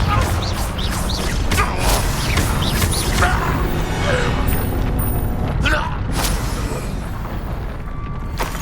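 A Confringo blasting-curse explosion in the Hogwarts Legacy video game, with loud booming blasts and crashing bursts over a dense, continuous rumble, several sharp impacts spaced through the stretch.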